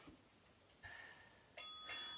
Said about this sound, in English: Let's ready for that bell.